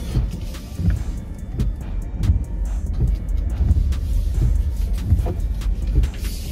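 A BYD Sealion 7 electric car cruises at a steady, relaxed pace, giving a continuous low road and tyre rumble from inside the cabin with faint thumps and no voices.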